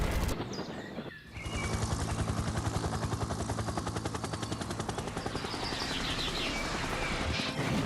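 Animated helicopter lifting an elephant in a net, its rotor a loud, steady rapid chopping that starts abruptly and carries on throughout, with light chirps over it.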